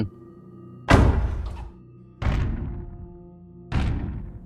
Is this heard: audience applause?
no